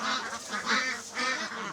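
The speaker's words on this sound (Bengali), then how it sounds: "সাদা এই হাঁসগুলো বেইজিং বা পিকিং জাতের হাঁস নামে পরিচিত" White Pekin ducks on a farm in Sunamganj, raised on a raised platform rather than a pond, honking and quacking in repeated nasal bursts, a close flock calling over one another without pause.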